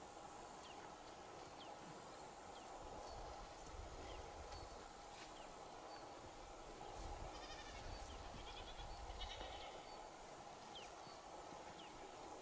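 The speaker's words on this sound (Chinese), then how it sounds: "这个村庄这么多这个牛羊马儿，遍地都是啊" Goats and sheep bleat faintly and far off across a remote, abandoned mountain village in Guangxi, scattered calls over a steady outdoor hiss with occasional hoof clatter.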